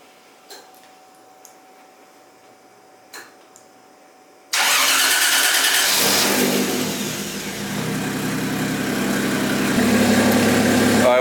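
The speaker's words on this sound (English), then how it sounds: "Kind of want to turn the motor over and see if we can't make sure everything is hooked up." A BMW E36 with a swapped 1JZ engine cranks and catches abruptly, then runs loud and steady close by, the revs sagging briefly and settling into a rough idle.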